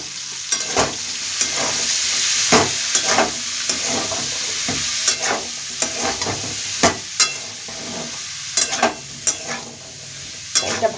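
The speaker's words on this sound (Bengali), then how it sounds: "যেটা কেটে রেখেছি লাউটা, আলুটা, সেটা দিয়ে দেবো তেলের মধ্যে, দিয়ে ভালোভাবে এটাকে একটু ভেজে নেব" Chopped bottle gourd and potato fry in hot oil with a constant close sizzle, punctuated by repeated sharp scrapes and clacks of stirring.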